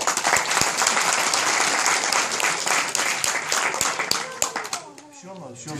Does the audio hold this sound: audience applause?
yes